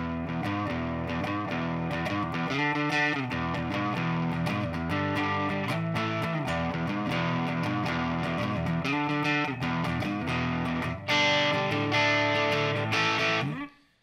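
A Peavey Penta electric guitar on its neck pickup plays distorted chords through an amp, with a thin, buzzy tone, continuous and fairly loud, then stopping abruptly.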